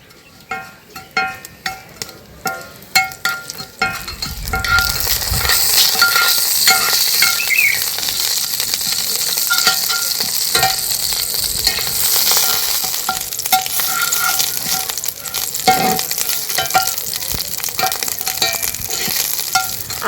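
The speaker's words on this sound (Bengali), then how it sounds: "আদার কাঁচা গন্ধ চলে যাওয়া অবধি কিন্তু ভেজে নিয়েছি।" Ginger paste frying in oil with five-spice seeds and a pinch of asafoetida for a vegetarian semolina snack: a few sharp stirring clinks open, then a steady loud sizzle continues throughout, with occasional utensil scrapes and no talk.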